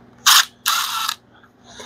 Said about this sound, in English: We can take our impact with a 9/16 and we can just lightly put that on.